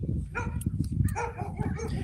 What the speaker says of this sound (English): You're going to hear dogs barking